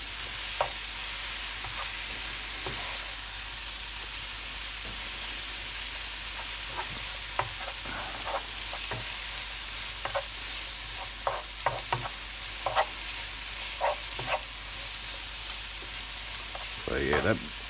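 A spinach, bacon and potato frittata mixture sizzles steadily in a frying pan, with intermittent scraping and knocking as it is stirred and spread flat.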